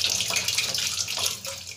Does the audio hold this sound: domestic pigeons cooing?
no